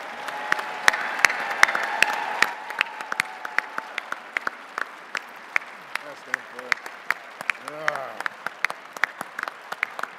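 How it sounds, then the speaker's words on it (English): An audience applauds a featured guest, Dr. Clarence B. Jones, at a speaker-series evening; sustained, dense clapping from a crowd, with a voice talking over the first few seconds. "I'd like to have one more round of applause for our featured guest,"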